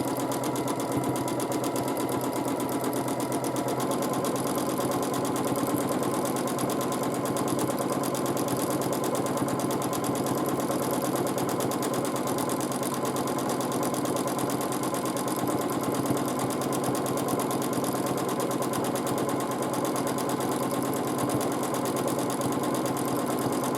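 Sewing machine with a ruler foot free-motion quilting a swirl, a steady continuous mechanical whir with fast stitching rhythm running evenly throughout, close and moderately loud.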